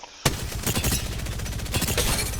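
Sustained rapid automatic gunfire from a high fire-rate weapon in Apex Legends, starting abruptly after a moment of quiet and continuing as a loud, dense stream of shots.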